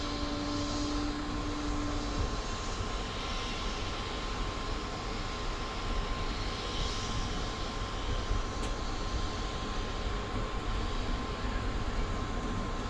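Riding aboard Southern Railway No. 630 on a Tennessee Valley Railroad Museum excursion, a steady, muffled rumble of the moving train fills the cabin, with a faint constant hum and no talk.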